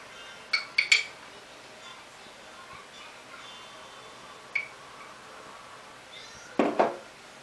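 A spoon clinks against a jar while scooping coconut oil, giving a few sharp metallic taps near the start, one lone clink midway and another cluster near the end over quiet room tone.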